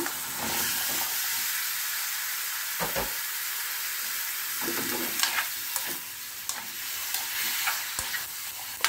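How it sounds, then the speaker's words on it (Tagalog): Squash hits a hot pan with shrimp and sizzles loudly in a continuous hiss, with scattered crackles and stirring clatter. "Ilagay ko na yung ating kalabasa."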